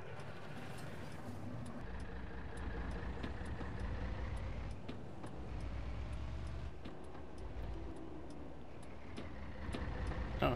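A Fiat 682 T2 truck engine in Farming Simulator 22 drones low and steady, rising slightly as it pulls away and shifts gears, with faint clicks over the continuous rumble.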